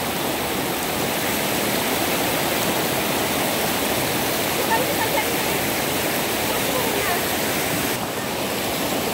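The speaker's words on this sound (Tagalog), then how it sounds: "Lakas ng agos." A strong river current rushes at the clear river of Candis in Rizal, Palawan, Philippines, a loud, steady roar of churning water close by, while someone speaks briefly over it.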